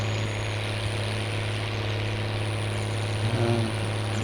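A pre-owned tractor idles steadily in Farming Simulator 19 on the Oakfield map, a constant low drone with a faint brief rise near the end.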